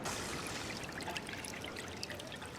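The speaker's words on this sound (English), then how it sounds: "The water's flowing now." Water runs in a steady broadband rush in the Mystery of the Druids point-and-click game, a continuous pouring stream with scattered trickling splashes, even and close throughout with no voices.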